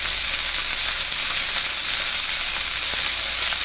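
Chicken strips sizzle in a hot pan for sweet and sour stir-fry, a steady loud hiss of frying heard up close without any voices.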